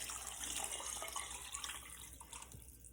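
Vegetable broth pours steadily into a soup pot in a home kitchen, a continuous close liquid splashing and gurgling that gradually settles toward the end.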